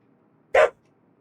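A single sharp dog bark from a female dog, close and loud, alone against a quiet room hum, cut off quickly.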